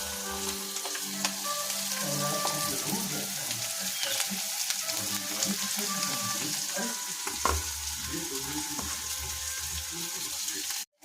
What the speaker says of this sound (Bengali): মাশরুমটা দিয়ে দিয়েছি ভাজার জন্য, আমি পেঁয়াজ কুচিগুলো দিয়ে দেবো